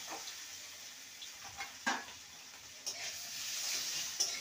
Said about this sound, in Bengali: আলুগুলোকে ভেজে নেব।